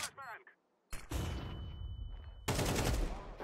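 AK rifle fire in Counter-Strike 2 comes as two loud bursts of rapid shots separated by a brief lull, mixed with players' voices.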